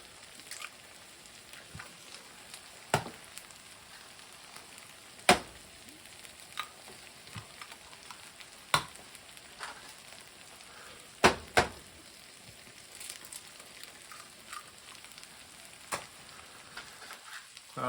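Four eggs frying in a pan alongside meat give a steady low sizzle, with occasional sharp pops and crackles standing out.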